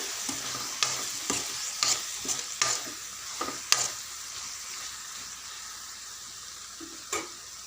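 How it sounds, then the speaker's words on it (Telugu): Raw banana curry being stirred in oil in a pan, with repeated scraping and clattering spoon strokes over a soft sizzle, close and moderately loud, then quieter toward the end. "చూడండి ఆయిల్ సపరేట్ అయింది అంత మంచిగా కలుపుకోవాలి"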